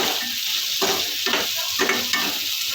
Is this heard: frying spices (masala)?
yes